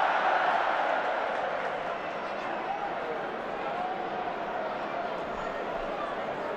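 A football stadium crowd gives off a broad, steady roar and murmur, loudest at the start and then holding level, with talking over it.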